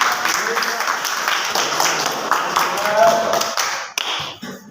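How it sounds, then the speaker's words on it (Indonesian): High-school classmates clap for a fellow student in a classroom, a lively burst of close claps with voices mixed in, thinning out abruptly near the end. "Tepuk tangan dulu untuk kawan kita."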